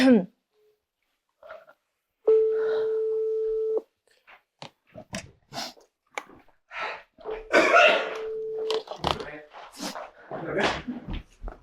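A telephone rings out on a call to a prospect: a single long steady electronic tone, fairly loud, then a second fainter one later, set among busy conversation and laughter from several people nearby.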